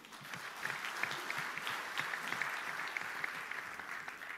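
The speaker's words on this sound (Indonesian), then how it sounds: "Tepuk tangan dulu." Audience applause at a gathering after thanks for high participation, a steady wash of many hands clapping at moderate distance, fairly even throughout with no speech over it.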